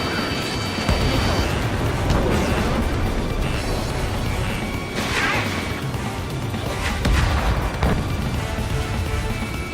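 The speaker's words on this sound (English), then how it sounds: "Dodge! Enemy is firing!" Enemy gunfire and explosions during an aerial combat mission in Ace Combat 7, with continuous loud crashing blasts and booms layered over jet noise, several sharper impacts standing out near the middle and end.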